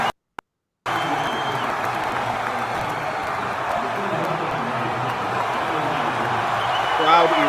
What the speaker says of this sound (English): Crowd erupting.